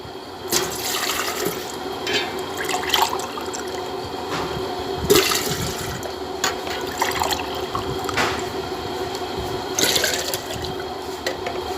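Water pours steadily into a cooking pot as liquid is added for making kadhi with pakora, a continuous splashing fill heard close up with no talking.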